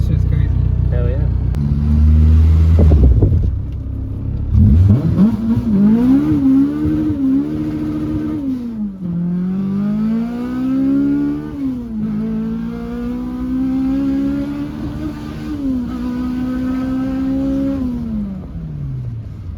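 A car with a naturally aspirated K24 engine revving hard from inside, a sharp blip then long climbing and falling engine tones held at high rpm, loud and close, with people talking in the car.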